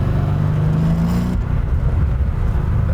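A 650hp 1967 Chevy Camaro roars loudly up close as its engine revs and rear tires spin, a rising engine tone that drops off midway into a rough, rumbling drone.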